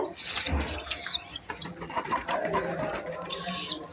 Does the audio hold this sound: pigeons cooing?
yes